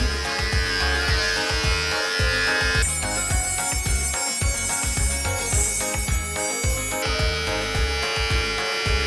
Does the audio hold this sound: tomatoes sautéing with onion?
no